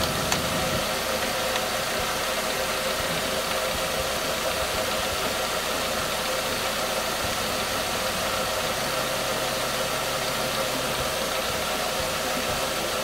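A 2012 Nissan Versa SV with a 1.6L engine idles steadily in the background, with a continuous low hum and no change in pitch through the whole stretch.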